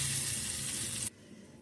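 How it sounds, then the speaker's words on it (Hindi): Loud, steady hiss and crackle of spices hitting hot oil as a tempering for chana dal, cutting off abruptly partway through, leaving quiet low rumble. "अभी हम दाल को तड़का लगा लेते हैं।"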